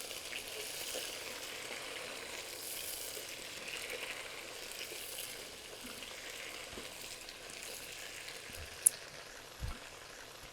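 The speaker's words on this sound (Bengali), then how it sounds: "আলুটাকে আমি হালকা একটু ভেজে নেব চিকেনটার সাথে" Potatoes frying lightly together with chicken pieces for a restaurant-style chicken gravy masala, a soft steady sizzle with faint clinks near the end, no talking.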